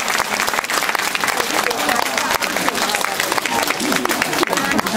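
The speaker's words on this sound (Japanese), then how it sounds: "今一度大きな拍手をお伝えくださいませ" A festival crowd claps loudly after a Yamaga lantern dance performance at the Nobeoka Daishi festival. The applause is dense and continuous, with voices heard under it.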